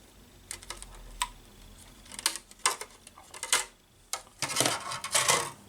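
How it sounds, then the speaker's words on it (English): A scored Lexan polycarbonate body shell for a Tamiya TD4 Super Avante RC car is flexed and snapped along the score line, giving sharp, close plastic cracks and crackling tears in irregular bursts, growing denser toward the end. "the lexan now, and it should start to snap."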